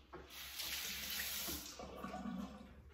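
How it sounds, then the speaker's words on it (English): A tap runs steadily at close range for about three seconds while hands are washed under it, with a broad rushing splash and no speech. "So, wash your hands, Nick."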